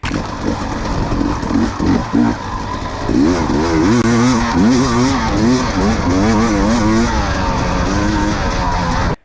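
A 2021 KTM 250XC W two-stroke dirt bike engine runs loud and close, first idling and blipping, then revving up and down repeatedly in sharp, crisp rises and falls.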